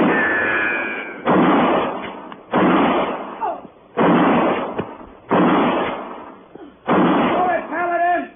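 Gunfire effects in an old-time radio western drama: a series of about six heavy, booming shots at a steady pace, each with a short decaying tail, heard through narrow, lo-fi broadcast sound.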